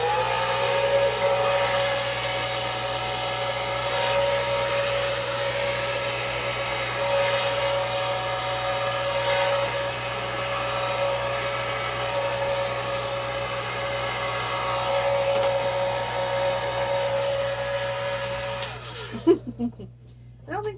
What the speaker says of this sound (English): Let's get our blow dryer.